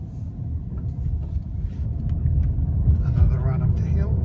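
A 2015 BMW 528i driving uphill, heard from inside as a low, rumbling engine drone that swells slightly in loudness, with a person talking over it.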